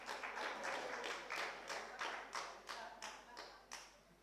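An audience applauds at a colloquium on the horse at Chambord, a moderate patter of many hands that pulses in uneven waves and gradually thins out, with no speech over it.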